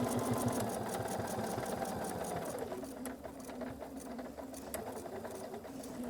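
A sewing machine runs stitches through fabric, a fast rapid-fire mechanical chatter with a steady motor hum, close and continuous, slowing slightly toward the end.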